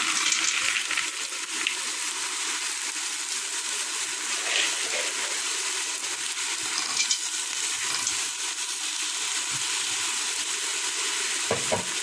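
Garlic, carrot, potato, onion and peas are stirred in a pot over heat, giving a continuous close sizzle with occasional soft scraping and wet stirring sounds, fairly loud and steady, without talk.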